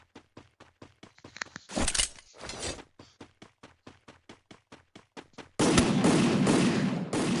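Gunfire in the Free Fire mobile game: a steady run of evenly spaced sharp shots, interrupted by two short noisy bursts, ending in a loud sustained roar of noise.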